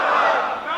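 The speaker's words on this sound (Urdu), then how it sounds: "یہ نعرے مارن لگے ہوئے" A large crowd at a religious gathering on the 27th night of Ramzan shouts a slogan in unison, a loud, sustained roar of many voices lasting under a second.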